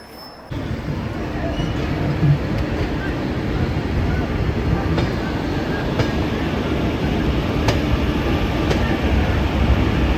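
A passenger train bound for Digha pulls out of Howrah station from platform 19, heard from on board as a loud, steady rumble with occasional faint clacks.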